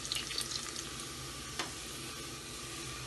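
Onions frying in a pan for aloo gobi, giving a soft, steady sizzle with light stirring scrapes and a brief clink partway through, fairly quiet and without talk.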